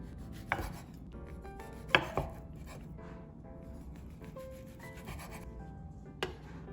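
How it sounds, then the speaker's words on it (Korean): A knife slices blanched sausages on a cutting board in a series of close, sharp taps and thuds, a few hitting noticeably harder. Faint melodic music plays underneath. "메인 재료 소세지는 데쳐서 썰어줍니다."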